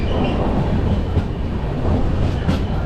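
A train rumbles through a railway station near Chengalpattu, a continuous loud rolling roar with faint rattling of wheels and carriages.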